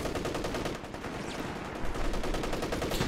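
Rapid machine gun fire from a Company of Heroes 3 multiplayer match, sustained bursts of dense, fast-repeating shots running continuously and loudly throughout, with no talk.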